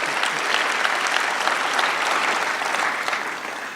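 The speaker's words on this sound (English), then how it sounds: "Yeah, you can applaud that." Steady, dense applause from an audience of medical students and guests at a white coat ceremony, loud and continuous, tapering slightly at the end with no talk over it.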